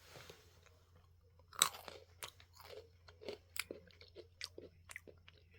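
Chocolate snack with hazelnut being chewed close to the mic, irregular crunchy bites and wet chewing that begin with one sharp crunch and continue in uneven bursts over a faint low hum.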